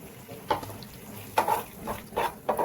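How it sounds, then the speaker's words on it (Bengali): Fried soybeans are stirred with spices in a pan as soy chilli cooks, a spoon scraping and rustling in a few irregular bursts, close and moderately loud against quiet background. "সয়াবিনটার সাথে মশলাটা খুব ভালো করে মিশিয়ে নিতে হবে।"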